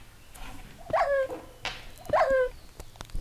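A dog in the video game Minecraft gives two short barks or whines about a second apart, clear and close over quiet background, with no talking.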